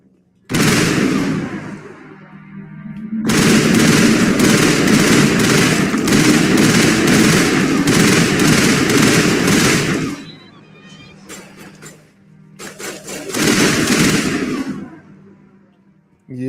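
Rifle gunfire from the video game Mass Effect bursts out in long rapid volleys, loud and close, broken by short pauses where a voice speaks beneath quieter background noise.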